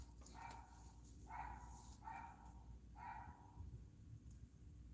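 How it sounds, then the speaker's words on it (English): A dog next door barks about four times, each bark spaced roughly a second apart. The barking is muffled and distant over a low, steady room hum. "That dog next door has freaking abandonment issues."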